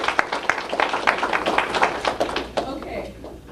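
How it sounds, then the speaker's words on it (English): Audience applause at a community talk on innovative community-based interventions, a run of scattered claps about three and a half seconds long that fades toward the end, heard under and around nearby talking. "I give you guys the biggest round of applause."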